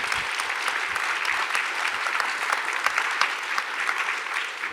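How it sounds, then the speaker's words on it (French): A French film screening audience applauds steadily, a dense even wash of clapping from many hands that holds at a moderate level from start to finish. "on peut applaudir Élie et Mathieu"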